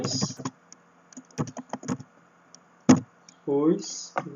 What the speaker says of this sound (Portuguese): meu teclado está falhando